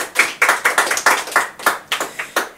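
An audience on a Spanish-language talk show stage claps for a guest musician. About a dozen sharp, evenly spaced claps sound in a quick rhythmic pattern, close and clear, with no talking.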